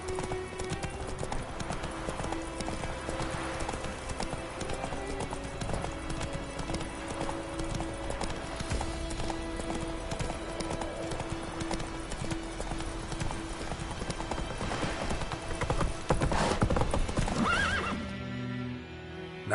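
Roach, the horse in The Witcher 3 video game, gallops with rapid, rhythmic hoof clip-clops and occasional whinnies, a continuous loud beat running nearly twenty seconds before easing near the end.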